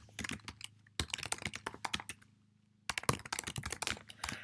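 Close computer keyboard typing of Java code, rapid irregular keystrokes in two bursts separated by a short pause, with no talking.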